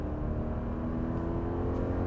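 The engine of a 2025 Subaru Forester accelerates at full throttle, heard from inside the car as a steady, even drone with a low hum and no voices.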